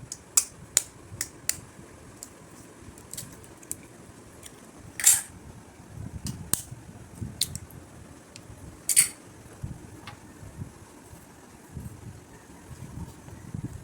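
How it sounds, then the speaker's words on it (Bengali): Egg being beaten with a pinch of salt, a series of quick, light clicks and taps scattered irregularly through a quiet background, with a few sharper strikes standing out. "তো এখন আমি ডিমটা ফেটিয়ে নেব।"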